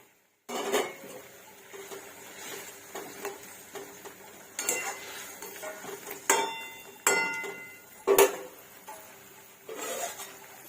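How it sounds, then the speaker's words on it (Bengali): Fish pieces go into a cooking pot of bottle gourd curry with prawns, heard as scattered metallic clinks, taps and scrapes of a utensil against the pot, quiet between louder knocks, with no one talking. "এবার মাছগুলো দিয়ে দিলাম"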